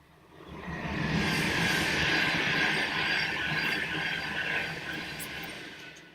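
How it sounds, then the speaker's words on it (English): A train passes at a distance, a broad rumble rising and fading over several seconds with a high squeal of wheels on rails layered on top, heard alone without talk. "there's a train coming"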